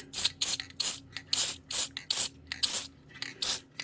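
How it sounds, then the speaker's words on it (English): Repeated short hisses of an aerosol can of PTFE dry lubricant, about eight quick bursts in an uneven rhythm, close and fairly loud with brief gaps between. "we're going to use some of this PTFE dry lubricant to give that a bit of a spray"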